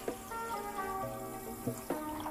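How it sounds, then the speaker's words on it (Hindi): Water poured into a kadhai holding a cup of sugar to make sugar syrup, a steady close pour with a few splashy bursts and trickles, no talking. "एक लीटर से ज़्यादा पानी डाल दिया मैंने।"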